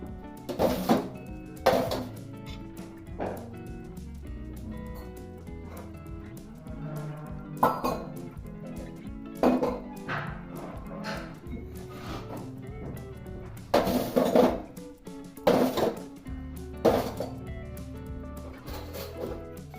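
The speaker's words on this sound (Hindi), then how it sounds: "सबसे पहले बर्तन को स्टैंड पे लगा लें, क्योंकि बर्तन बहुत ज़्यादा है" Steel dishes and pots being stacked onto a dish stand in a home kitchen, with repeated clinks and clatters at irregular intervals, some loud knocks close by, over quiet background.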